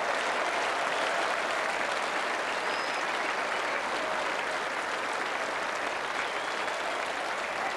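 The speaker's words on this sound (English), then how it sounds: "It's erupted into applause." Crowd applause rolling around a cricket ground during an England versus South Africa Test match, a steady wash of distant clapping from the stands, continuous and even throughout with no commentary over it.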